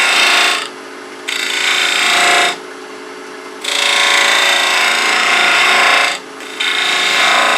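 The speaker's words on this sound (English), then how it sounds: "take a spindle gouge and make just a bit of a V-cut starting right on the line" A spindle gouge cuts a V-cut into wood spinning on a lathe, producing a loud rasping hiss that comes in three bursts separated by quieter gaps where the lathe hums alone.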